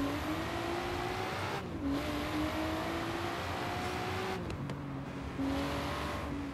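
Nissan Skyline GT-R heard from the cockpit in the Forza Horizon racing game, its engine droning steadily with turbo whine as revs climb and dip through several gear changes, continuous and fairly close.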